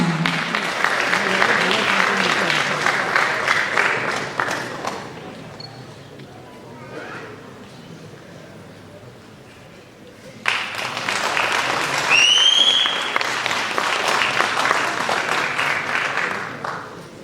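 An audience claps loudly and continuously at a best female singer award ceremony, with a short quieter lull in the middle before the applause swells back, while a voice talks at moments over it.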